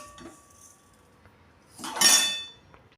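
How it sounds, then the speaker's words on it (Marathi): Roasted flaxseed being moved from a pan onto a plate with kitchen tongs, giving a brief burst of metallic clinks and scraping against the dishware after a quiet stretch. "डायरेक्ट पकडीच्या साह्याने मी हे थोडंसं असल्यामुळे या प्लेटमध्ये काढून घेणार आहे"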